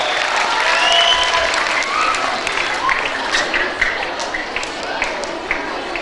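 Steady applause from a large audience of teachers and students at a public lecture, a dense wash of clapping sustained for about six seconds with some crowd murmur mixed in.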